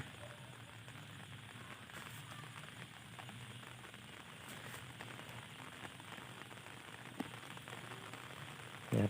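Steady, faint rain falls continuously, a soft hiss of drops on a surface with no voices, ending with a brief louder knock.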